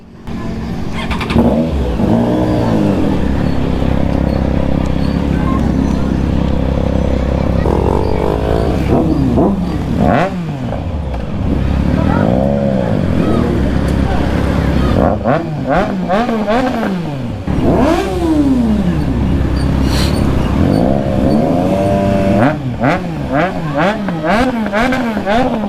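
A Triumph X6R motorcycle pulls up at a motor show, its engine revving and rising in repeated loud bursts over a busy, rumbling crowd of vehicles, with people talking nearby.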